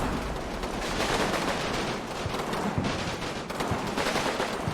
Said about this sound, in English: Oh yeah, the Marder's shooting in.